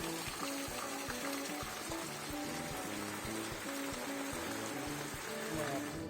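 Steady rain hisses continuously over a vegetable garden, with voices murmuring faintly underneath the downpour.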